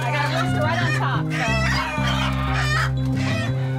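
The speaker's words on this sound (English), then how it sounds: "I got a rooster right on top." A rooster crows amid clucking chickens and other fowl during a large animal rescue of hundreds of animals, the calls close and loud, heard over steady music and people talking.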